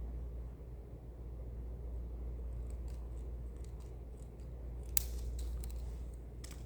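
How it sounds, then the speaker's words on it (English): Scissors snipping a plastic film slide, a couple of faint quick cuts near the end against a low steady hum of room noise. "I'm going to snip one."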